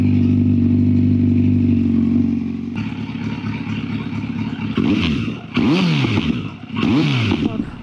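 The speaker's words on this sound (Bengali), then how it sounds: "এবার হবে বাইকের কোল স্টার্ট" Superbike with a titanium Arrow slip-on exhaust firing up from cold, settling into a loud, steady idle before sharp repeated throttle blips rise and fall close by, with no talking.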